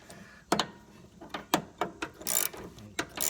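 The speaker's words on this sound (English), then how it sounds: "holding that bolt in right here with the 6mm Allen head while we're taking off that nut" Ratchet clicks while a nut comes off the sway bar bracket on a ROUSH Mustang, with the bolt held by a 6mm Allen key: sharp, close metallic clicks in irregular short bursts with brief pauses between them.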